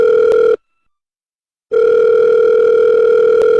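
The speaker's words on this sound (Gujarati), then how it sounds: "હા રિંગ વાગાતો છે" Telephone ringback tone heard during a call, a steady loud two-pitch burst that cuts off for about a second and then resumes, with no voices over it.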